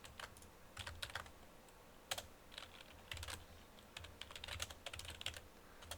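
Computer keyboard typing in bursts of quick keystrokes with short pauses, close and moderately loud over a faint low hum, during a command-line session.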